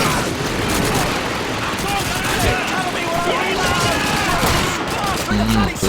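Gunfire in Call of Duty 2, with dense bursts of rifle and machine-gun shots and booming blasts that run almost without pause. The gunfire is loud and continuous, and a voice talks faintly beneath it.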